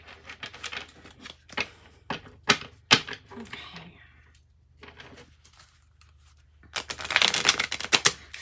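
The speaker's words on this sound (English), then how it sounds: "Just shuffling the decks, getting them ready," Tarot and oracle card decks are shuffled by hand in sharp riffling bursts and crisp flicks, a busier rapid flurry near the end, with faint background rustle between.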